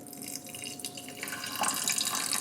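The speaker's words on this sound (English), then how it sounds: "you're gonna wanna add some water into it" Water pours into rice in a rice cooker pot, a steady splashing rush that swells louder and brighter in the second half, close by with no talking.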